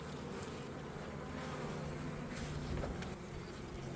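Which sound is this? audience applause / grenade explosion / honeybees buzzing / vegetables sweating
honeybees buzzing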